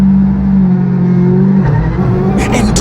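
A gravel rally car's engine runs loud and close at the stage start of Rally South Africa 2019 after being flagged off, holding a steady drone before shifting pitch as it revs.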